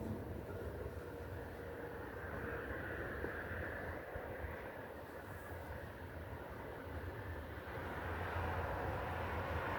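An airplane flies overhead on its approach toward Kutaisi airport, a steady, broad engine rumble that holds for the whole stretch and swells slightly toward the end, with no voices.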